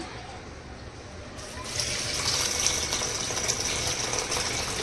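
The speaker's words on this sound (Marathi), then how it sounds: "पाणी टाकून स्वच्छ धुवून घेतली आपण डाळ" Running water pours steadily over lentils being rinsed clean, growing louder partway through, a continuous splashing rush close by.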